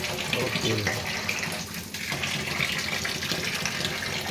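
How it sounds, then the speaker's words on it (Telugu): Water runs steadily from a nearby tap while grains are rinsed for soaking, a continuous close gushing wash with no breaks. "కడిగి 2 సార్లు కడిగితే చాలు, ఉన్న దుమ్మంతా పోయింది."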